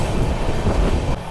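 The Kolkata Sairang Express runs on rails, heard as a short burst of dense rolling rumble with a faint rhythmic wheel clatter. There are no voices.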